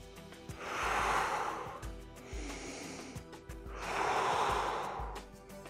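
Two slow, deep breaths drawn in close to the microphone, each a long airy inhale separated by a quieter pause.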